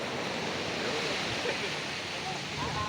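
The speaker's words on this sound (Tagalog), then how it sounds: "Harisan ng isda yun. Laki ng alon" Big sea waves break and surge at Julugan, Tanza, making a steady broadband wash of surf mixed with wind noise on the microphone. The roar stays continuous and fairly loud.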